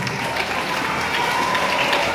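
Students at a school orientation session on clean and healthy living applaud together. The clapping is steady and dense, a close crowd sound that fills the whole short clip.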